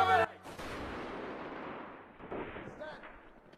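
Gunfire in a film execution scene from Valkyrie, with sharp loud reports near the start followed by a sustained rumbling wash and a few smaller distant bursts, over a dense cinematic background.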